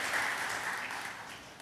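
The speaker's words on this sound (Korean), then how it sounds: "우리 박수 한번 할까요?" Applause from a congregation during a Sunday church service, a soft, dense wash of clapping that fades slightly toward the end.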